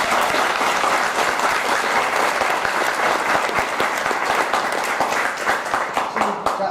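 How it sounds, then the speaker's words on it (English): Warm round of applause from the audience at an award presentation honoring a community member, dense and sustained for nearly seven seconds, with individual claps audible and tapering slightly at the end. "How about a round of applause?"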